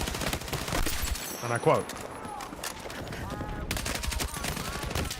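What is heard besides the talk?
gunfire from Battlefield 6 video game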